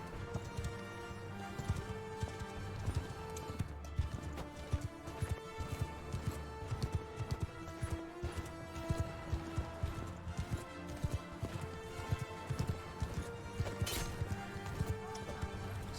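A horse in the game Bannerlord gallops with steady, rapid hoofbeats over a long stretch, a whinny breaking through now and then amid battle noise.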